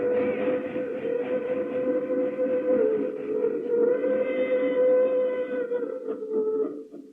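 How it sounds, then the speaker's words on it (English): A distant freight train rumbles along under a long, steady horn-like whistle that holds for several seconds before fading slightly at the end. "That's another freight train on its way."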